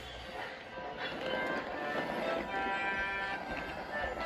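Thomas the steam engine and Flora the tram rolling along a jungle track in a wooden-model railway scene: a steady, fairly loud rumble with light rhythmic clatter throughout, no voices.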